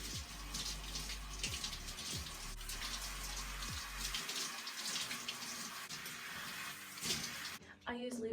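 Water from a shower runs steadily in a bathroom, a constant hiss and splash at moderate distance, broken by a few faint knocks, with quiet speech-like sounds mixed in.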